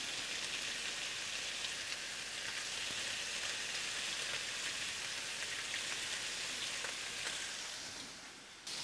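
Pork slices frying in bacon fat in a pan, a steady close crackling sizzle that holds evenly throughout and then drops off briefly near the end.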